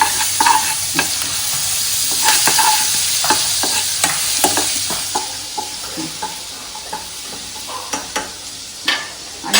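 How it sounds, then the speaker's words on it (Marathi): Ginger garlic paste sizzles in hot oil as it is stirred, a loud close hiss punctuated by regular spatula scrapes and taps on the pan, with no one talking. "आता त्याच्यामध्ये टाकायचं आहे हे आलं लसूणचं पेस्ट"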